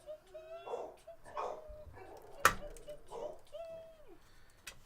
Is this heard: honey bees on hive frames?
no